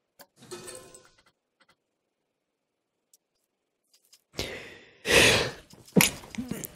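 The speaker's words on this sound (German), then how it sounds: "Sorry, ich musste mal gerade einmal niesen." A single close sneeze burst that breaks a mostly quiet stretch, with a sharp loud peak and a shorter noisy tail afterward, preceded by faint breathy sounds.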